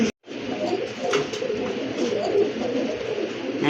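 A male pigeon, sold in a pair, coos in repeated low, throaty rolls close by, with soft rustling around it and no talk.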